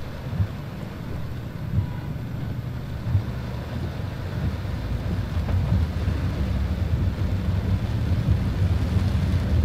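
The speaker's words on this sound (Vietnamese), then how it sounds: "bây giờ là mưa như trút nước rồi" Torrential downpour during a thunderstorm over city streets in Binh Duong, Vietnam, with giant swirling clouds overhead: steady loud rain roar throughout, with low rumbling thunder mixed in and a few brief swells.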